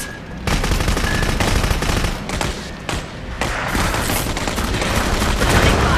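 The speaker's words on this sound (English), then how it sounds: "Returning fire!" Dense, continuous gunfire and bursts of automatic weapons fire from the video game Clive Barker's Jericho, loud and close, with shots overlapping into a steady barrage for the whole stretch.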